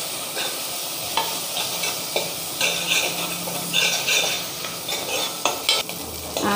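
Turkey berries fry in ghee in a pan, a steady close sizzle broken by repeated scraping and stirring strokes of a spoon against the metal.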